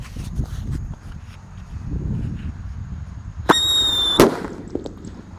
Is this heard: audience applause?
no